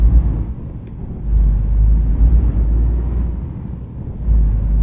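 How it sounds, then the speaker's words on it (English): Heavy Scania T truck engine in Euro Truck Simulator 2 rumbling loudly, with a deep, steady growl that swells and dips as the exhaust brake engages. "There's the exhaust brakes."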